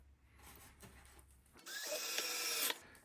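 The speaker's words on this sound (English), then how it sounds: "I screw the painting to the frame using these little 1-inch drywall screws" A power drill drives 1-inch drywall screws through wood into a floater painting frame: a short whirring spin-up followed by a louder grinding burst of a second or so, close and alone.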